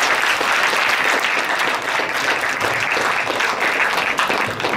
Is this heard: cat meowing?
no